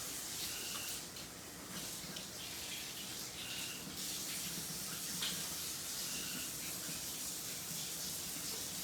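Tap water runs steadily into a kitchen sink while bread dough is rinsed, a continuous close hiss and splash with slight shifts in flow and no talking.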